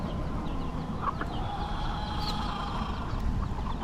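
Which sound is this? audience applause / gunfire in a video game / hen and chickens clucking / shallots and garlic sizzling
hen and chickens clucking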